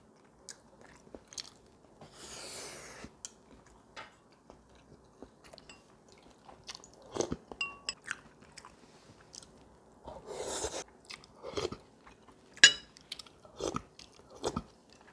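Close-up mouth sounds of someone eating braised beef short ribs and potatoes: soft, wet chewing and occasional bites in irregular bursts, with quiet pauses between and no speech.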